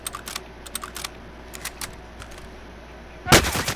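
Gunfire in the video game Warzone, sparse clicks and taps at first, then a sharp loud burst of automatic fire close by near the end.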